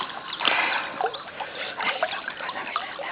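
A baby splashes and sloshes water during her first bath, a steady, close wash of splatters and drips with a few sharper splashes near the start.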